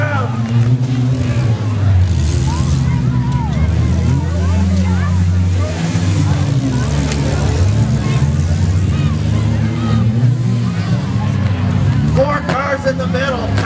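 Demolition derby cars at the Caledonia Fair, including numbers 44 and 199, roar with loud engines revving continuously, with a babbling crowd throughout and occasional rough knocks mixed into the din.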